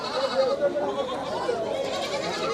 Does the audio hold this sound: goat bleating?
yes